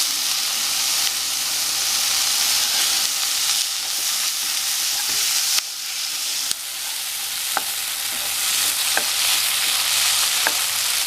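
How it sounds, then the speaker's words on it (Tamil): Onions and tomatoes sautéing in a pan for a spicy potato curry, a loud continuous sizzle and hiss broken by a few sharp stirring clicks and scrapes. "வெங்காயம் தக்காளியெல்லாம் வதங்கியாச்சு"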